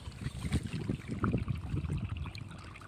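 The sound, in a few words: water flowing in a field channel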